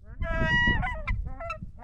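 Nene, the Hawaiian goose, honking at Hawaii Volcanoes National Park: a quick series of nasal, harmonic honks, close and clear, over a faint background murmur.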